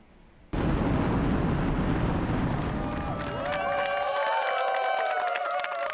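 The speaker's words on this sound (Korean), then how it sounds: "하늘로 솟아오르는 누리호를 보며 환호하는 나로우주센터 관계자들" Staff at Naro Space Center cheer as the Nuri rocket lifts off, a loud crowd roar over deep launch rumble that swells and continues for several seconds.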